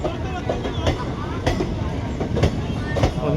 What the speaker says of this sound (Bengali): আমরা ট্রেন বোর্ড করে গেছি